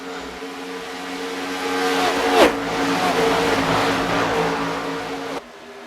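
A pack of NASCAR Xfinity race cars in a racing game at Michigan roaring past a lapped car, engines droning loudly and swelling to a sharp pass-by peak before fading.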